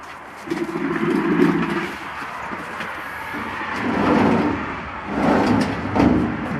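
Drawer of a used 120 cm office desk sliding open and shut, a few rumbling, scraping glides of moderate loudness with short pauses between, no talking.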